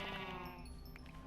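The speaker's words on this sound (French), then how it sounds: "Encore un mouton." A sheep in the video game Minecraft gives a short, faint bleat, a single wavering call lasting about a second against a low background.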